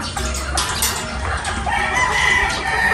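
A flock of farm chickens and ducks cluck close by while a rooster crows, a busy, continuous poultry chorus at a fairly loud level.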